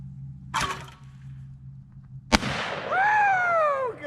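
Shotgun fired at a clay skeet target at a private gun range: one sharp blast, then after a pause a second loud report, followed by a brief whooping cheer.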